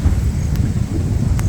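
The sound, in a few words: strong wind on a mountain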